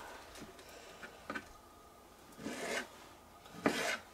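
Knife cutting pears into thin strips for a pear and chocolate tart, heard as a few soft scraping slices with quiet taps between them, the last two strokes louder and longer.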